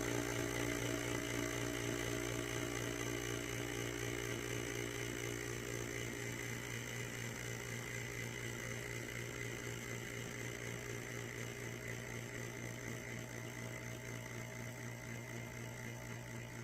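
A vacuum canner pump runs to seal jars of freeze-dried food, giving a steady, loud, humming motor drone with even tonal layers that stays constant and only eases slightly throughout, with no voices.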